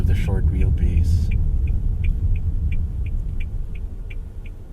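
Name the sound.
electric motor whir of Toyota Urban Cruiser BEV driving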